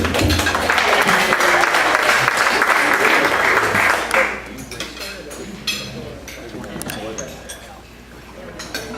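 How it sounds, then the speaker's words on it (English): A room full of people applauds a guest joining a program for a second round, with loud, close clapping for about four seconds before it drops away into quieter murmurs and scattered noises, with voices talking afterward. "a warm round of applause for Judy"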